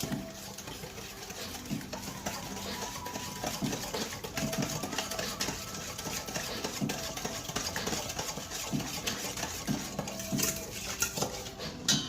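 Carrot cake batter being mixed in a bowl, a steady busy clatter of utensil against bowl with a continuous machine-like hum underneath, no talking.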